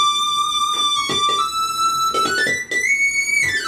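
A synthesizer lead, standing in for guitar, plays the bridge of a cover song: a bright sustained tone that slides gradually upward in pitch, with a few soft percussive hits underneath and no voices.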